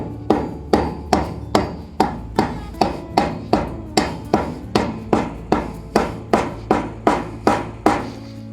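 A wheel bearing part is tapped into a trailer hub with a hammer, a steady series of about seventeen sharp metallic knocks at a regular rhythm, close and clear with nothing else over them.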